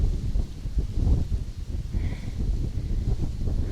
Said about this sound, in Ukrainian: Вітер, вітер сильний.